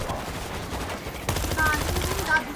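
Gunfire in the zombie shooter World War Z, New York tunnel chapter: a busy, noisy stretch of rapid shots and clatter building louder in the second half, mixed with game ambience.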